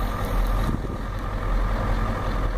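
A 1993 Ford F-250 with a 7.3L IDI diesel engine runs at about half throttle while smoking, giving a steady, loud, low rumble with no breaks and no talking.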